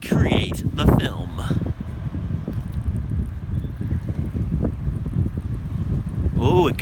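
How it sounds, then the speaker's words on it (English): Gusty wind buffets a microphone on a Paris street before sunrise, a steady low roar of rumbling noise that swells and eases throughout, with a person speaking at the start and again near the end. "It got really windy all of a sudden."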